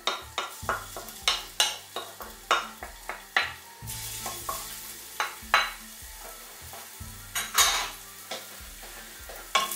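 Minced ginger and garlic frying in oil in a pot over medium heat, a soft sizzle under repeated sharp scrapes and taps of a utensil stirring against the pot in an uneven rhythm, close up with no talk.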